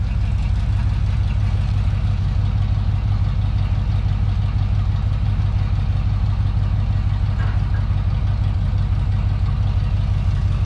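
A Monte Carlo SS engine idles with a steady low rumble and an even throb that carries on without a break, close and moderately loud, with no one speaking.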